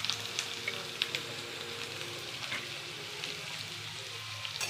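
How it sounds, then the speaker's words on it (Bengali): Chopped onion frying in oil with cardamom and cinnamon for Patiala chicken, a steady close sizzle with a few faint crackles and no voices. "পেঁয়াজটা একটু ভাজা হবে"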